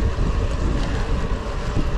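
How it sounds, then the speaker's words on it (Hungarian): Strong outdoor wind roars and buffets the microphone steadily for the whole stretch, loud and close, with a broad rumbling gusty texture and no voices; the temperature is around 12–13 degrees. "Elég nagy szél van."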